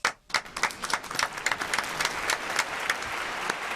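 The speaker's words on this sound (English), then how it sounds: "Can we give him a round of applause?" A crowd applauds steadily, the clapping starting sharply and holding at an even level throughout.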